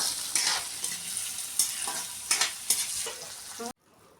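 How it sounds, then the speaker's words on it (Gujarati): Garlic, green chilies and capsicum sizzle in a hot pan while being stirred, with a continuous loud frying hiss and occasional scraping, ending abruptly. "પછી લસણ અને લીલા મરચાં પેપ્સિકમ મરચાં નાખી પાંચ મિનિટ સુધી શેકી લઈશું"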